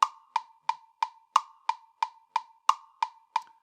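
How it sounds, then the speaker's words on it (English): Sharp, evenly spaced metronome clicks tick at a steady quick pace with accented beats marking subdivisions, clean and isolated with nothing else behind them. "you might stumble upon a click track that has more subdivisions in it"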